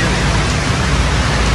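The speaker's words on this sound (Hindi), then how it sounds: "बारिश के अंदर हम आपके लिए आए हुए हैं" Heavy storm rain pours steadily and loudly in Gujranwala, a dense continuous hiss with no break across the short stretch.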